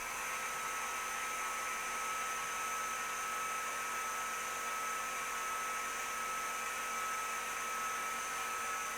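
VEVOR 20W diode laser engraver with air assist cutting, a steady, continuous airy hiss and whine from the air-assist pump running alone without pause.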